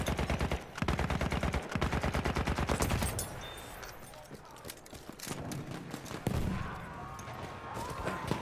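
Machine gun fire in Battlefield 1: a loud, evenly spaced burst of rapid shots, a brief pause, then more shots, followed by scattered battle noise and explosions with voices.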